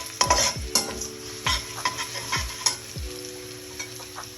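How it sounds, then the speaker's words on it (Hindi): Sliced onions fry with whole black peppercorns and green cardamom in a pot for lamb yakhni pulao, a steady close sizzle broken by several sharp scraping stirs and clinks of a spoon against the metal. "प्याज को गोल्डन ब्राउन कर लेंगे"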